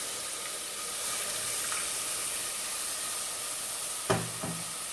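Milk poured little by little into a sizzling flour roux in a pan, a steady hiss and bubbling frying sound with a couple of sharp clinks near the end, no voices.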